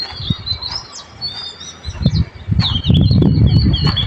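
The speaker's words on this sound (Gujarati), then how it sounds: "ચકલા પોપટ ને બધા અવાજ કરે છે" Sparrows and parrots calling in the early morning during a walk outdoors: repeated high chirps and whistles over a low, uneven rumble of movement and ambient noise, with no talking.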